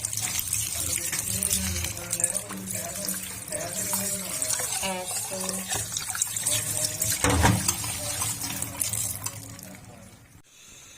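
Water poured over boiled fenugreek leaves sitting in a kitchen strainer, a steady close splashing and trickling that runs almost the whole time, with a brief spoken word near the start.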